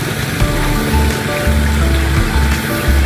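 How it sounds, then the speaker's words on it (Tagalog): Heavy rain pours over an outdoor tilapia fish pond, a loud, dense, continuous hiss and wash with a low rumble underneath, steady throughout with no talking. "lakas ng ulan eh."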